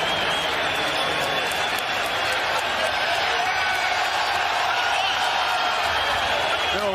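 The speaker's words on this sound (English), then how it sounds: "They don't like to hear the fans cheering." Basketball crowd at an NBA game cheering after Kevin Durant goes down with a right calf injury: a steady, dense roar of many voices filling the arena for several seconds, with other voices mixed in.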